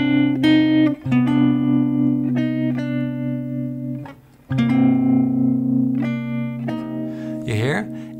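Guitar chord melody of a jazz standard, sustained bass note under a chromatically descending inner voice and melody notes, plucked chords ringing clearly with brief gaps and a string slide near the end.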